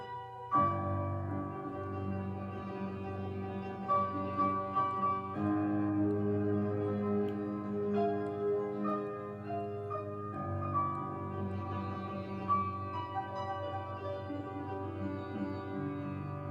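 Soft piano chords unfold at a flexible, unhurried pace, swelling and settling with sustained notes ringing under each new chord, quiet and without voices.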